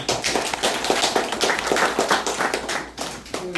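Audience applause at a political party gathering: a dense burst of many hands clapping at once, loud and sustained for several seconds before thinning slightly.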